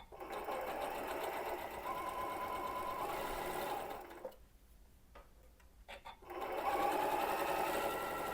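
A sewing machine stitches quilt block pieces in a fast, close, mechanical rattle that pauses for about two seconds midway before resuming at full speed.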